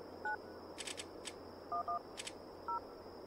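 Keypad tones beep as a phone is dialed in the video game Alone in the Dark (2008): short single and paired electronic tones come one by one with gaps between them, over a faint steady hum.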